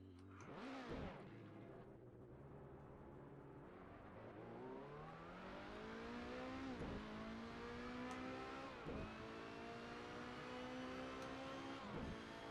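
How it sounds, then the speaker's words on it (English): Race car in the Assetto Corsa video game, its engine whining and rising through the gears with sharp drops at each shift, steady and loud throughout with no talk. "I love that whine that race cars have."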